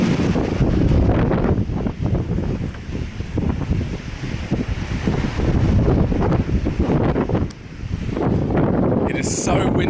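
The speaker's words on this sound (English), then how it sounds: "it's really windy." A strong wind blasts the microphone on a coastal boardwalk near the Twelve Apostles rock stacks, a loud, continuous roaring buffet that rises and falls, with brief talk underneath.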